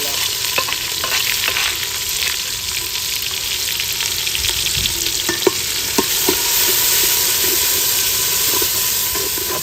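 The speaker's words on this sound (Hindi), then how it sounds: "घी जो है गर्म हो चुका है। अब इसमें मिसाले ऐड हो रहे हैं।" Spices frying in hot ghee in a village kitchen, with ginger and garlic: a steady broad sizzle and hiss throughout, broken by a few sharp stirring clicks and scrapes.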